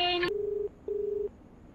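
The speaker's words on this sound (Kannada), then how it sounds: "ಯಾವ್ದೋ ಫೋನ್ ಬರ್ತಾ ಇದೆ ನೋಡು." A mobile phone in a dramatic scene sounds a faint electronic tone, followed by two steady, even beeps separated by a short gap, with quiet room noise around them.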